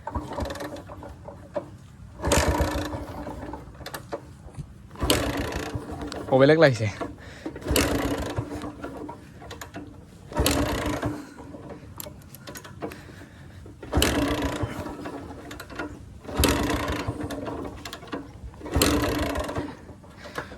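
A motorbike left unridden for many days gets kicked over and over, each kick a rough mechanical thud and churn coming at a steady pace a few seconds apart, while someone talks between the attempts.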